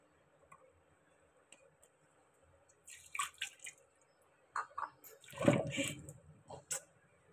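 Something is dropped into a pot of hot water for soaking, giving a short splashing burst of water and a few soft drips and clinks nearby; no one speaks.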